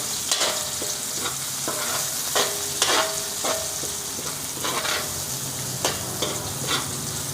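Red onions stir-fried in a pan for arroz valenciana, a steady close sizzle broken by repeated scraping strokes of a spatula against the pan.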